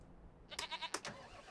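Goats in Farming Simulator 25 let out a short, wavering bleat, close and fairly loud, followed by a second quick bleat, with no talking.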